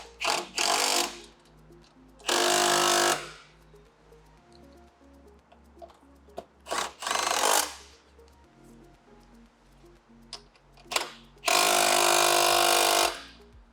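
A 12mm socket drives fasteners back in to secure the fuel tank on an SG250 cafe racer motorcycle, heard as three separate bursts of loud, buzzing tool noise close by, with a steady low hum running between them.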